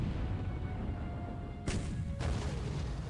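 Naval gunfire in the War in the Pacific game: over a constant roaring rumble, two sudden broadband blasts burst out about half a second apart, loud and full, with no talking.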